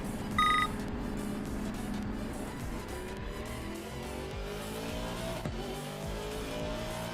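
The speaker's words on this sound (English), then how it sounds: "You can start to hear there's a lot more traffic on there now" Race cars circling Kyalami in an Assetto Corsa Competizione endurance race, a steady roar of several engines with overlapping pitch sweeps as cars pass, plus a brief electronic beep near the start; no voices.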